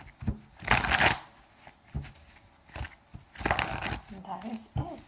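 Tarot cards are shuffled in crisp riffling bursts with soft crinkling, close and moderately loud, while a person talks over part of it.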